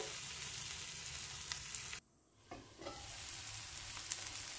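Ivy gourd (tondekai) fries in a pan with a close, crackling sizzle and stirring scrapes. The sizzle briefly drops out for about half a second, then returns and carries on steadily without speech.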